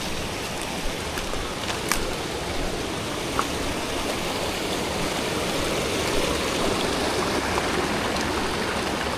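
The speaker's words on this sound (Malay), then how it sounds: "Ada anak sungai lagi." A small jungle stream on the Gunung Tahan trek flows with a steady, close rushing and burbling of water throughout, with a few faint clicks on top and no voices.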